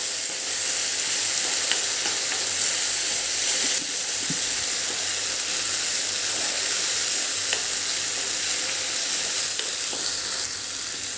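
Tomato puree sizzles and hisses as it sautés in a pan for a kaju masala curry, a loud steady frying sound close up with faint scrapes of stirring.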